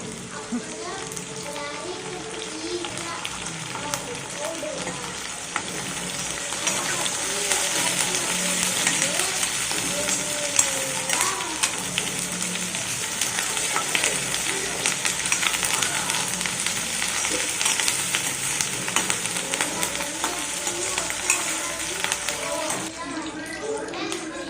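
Onions sautéing in a pan for radish chutney, a continuous sizzle that swells and lingers for a long stretch, with voices, including a child's, talking over it.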